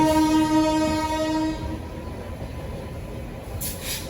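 A Janshatabdi Express on the Chennai Central to Vijayawada route sounds a loud, steady horn blast for about a second and a half. The train then keeps rumbling along with a low rolling noise, and no one speaks.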